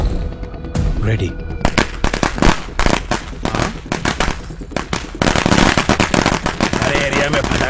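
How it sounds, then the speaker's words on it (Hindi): Firecrackers burst in a dense, rapid barrage of sharp cracks and pops during a dubbed movie scene, loud and near, with explosive bangs overlapping almost without pause. "अरे एरिया में पटाखा कौन फोड़ रहे रे?"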